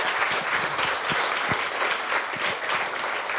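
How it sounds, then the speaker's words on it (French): An audience claps for the volunteers who clean the hall, producing continuous, even applause that holds at a fairly loud level for a few seconds. "Est-ce qu'on peut les applaudir ?"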